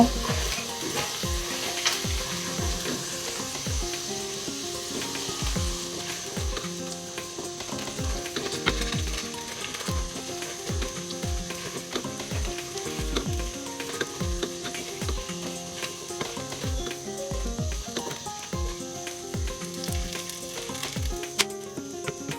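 Continuous oily sizzling of chitol fish frying in oil, with frequent light scraping and tapping of a utensil against the pan throughout.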